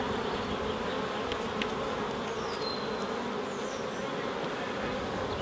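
Honey bees from a swarm buzz around an open hive, a continuous close drone of many wings with individual bees passing nearby, steady and unbroken with no talk.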